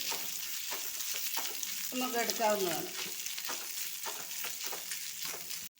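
Cooked shredded chicken frying in a pan while being stirred, an ongoing sizzle with scraping spatula strokes, heard close under a woman's speech in Malayalam.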